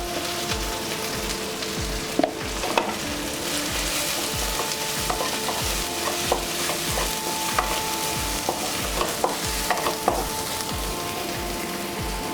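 Masala sizzles loudly in oil as chili powder goes in for an Andhra gongura prawn curry, a dense, constant crackling fry close by with scattered clinks of a stirring spoon throughout.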